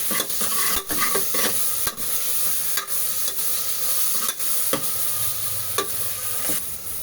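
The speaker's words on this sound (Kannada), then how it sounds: "ಶುಂಠಿ ಬೆಳ್ಳುಳ್ಳಿ ಪೇಸ್ಟು ಸ್ವಲ್ಪ ಹಸಿ ಸ್ಮೆಲ್ಲು ಕಡಿಮೆ ಆಗೋ ತನಕ ಲೈಟಾಗಿ ಫ್ರೈ ಮಾಡ್ಕೋಬೇಕು" Ginger garlic paste frying in a pan: a steady, close sizzle with repeated sharp scrapes and clinks from stirring, and no voices.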